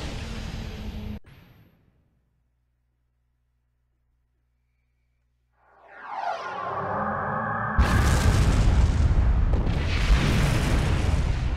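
Starship weapons fire and explosions in the space combat game Star Trek Online: a short burst, then near silence, then a rising sweeping whoosh that swells into a loud, sustained roaring blast rumble filling the end.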